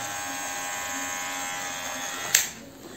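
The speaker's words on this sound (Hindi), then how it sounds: "इतनी आवाज मुझे लगता है सफिशियंट है ट्रिमर में" A Geemy GM 6008 hair trimmer runs with a steady, close electric motor buzz and a brief sharper click or spike near the end.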